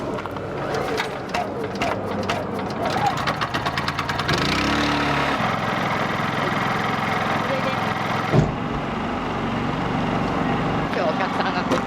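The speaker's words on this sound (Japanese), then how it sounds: "エンジンかけます。" A vehicle engine cranks to life and settles into a steady, rumbling idle, fairly close and continuous, with people talking over it throughout.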